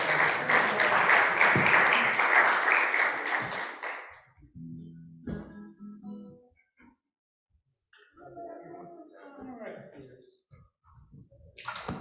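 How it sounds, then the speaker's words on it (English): A small crowd at an open mic claps warmly for about four seconds. The clapping then stops and people start talking, with scattered clicks and handling noises. "let's give a big round of applause to Dan"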